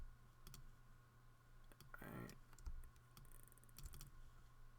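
Faint, scattered clicks of keys pressed on a computer keyboard come in a few quick, irregular taps over a quiet room background.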